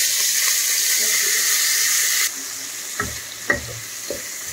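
Onions fry in a pan with a bright, continuous close sizzle that drops lower partway through, followed by a few scraping stirs and clinks.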